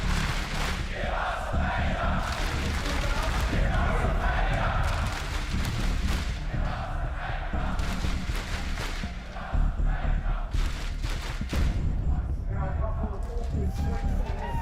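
An esports arena crowd at an IEM Melbourne 2025 CS2 semifinal roars and cheers in a dense, sustained wash of noise, with a commentator talking steadily over it.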